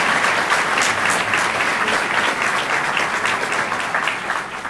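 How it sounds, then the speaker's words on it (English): Steady, dense applause from a crowd at a Providence, Rhode Island community event honoring elected officials, loud and sustained without a break, with no voices heard over it. "Please, a big round of applause for all of our elected officials who are here with us."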